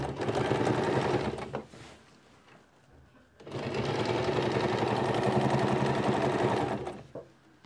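A sewing machine stitches the hem of a Pahadi ghagra in two steady whirring runs, close and even, separated by a brief pause.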